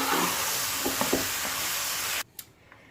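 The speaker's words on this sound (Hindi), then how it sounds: "घी जो है हमारा अब आ चुका है, ऊपर भून चुका है ये हलवा जो है हमारा" Gajar ka halwa, carrot halwa, frying in ghee: a steady, close hiss of sizzling with a few soft stirring clicks for about two seconds, then cutting off to near quiet with a single small tap.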